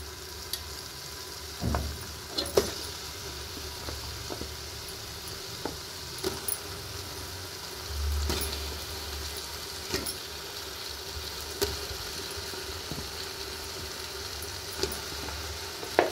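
Goat legs frying in a tomato masala for paya curry, a steady low sizzle throughout with occasional stirring clatters and scrapes of the pan, close and moderately quiet.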